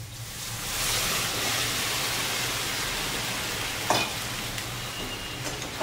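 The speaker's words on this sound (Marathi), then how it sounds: "यामध्ये मटकी घालायची." Moth beans being stirred into frying masala in a pan, with a steady close sizzle and scraping of a spoon throughout and a brief louder clatter near the end; no talking.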